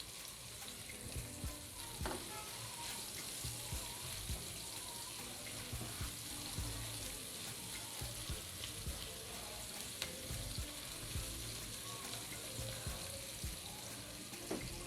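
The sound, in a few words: chopped onion sautéing in hot oil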